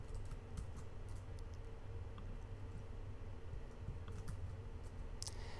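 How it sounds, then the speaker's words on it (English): Computer keyboard keys clicked softly at a desk, a few faint taps over a steady low background hum, with no speech. "I'm going to press, as it says right here, Command R"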